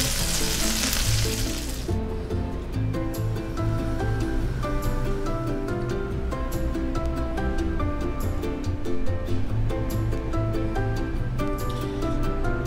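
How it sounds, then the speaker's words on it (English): Crispy chicken bopis sizzles and fries loudly in a pan, a steady close crackling hiss throughout with a sharper burst at the start. "Sizzling crispy chicken bopis"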